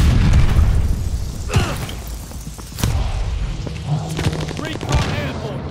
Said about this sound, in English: Incoming stun grenade.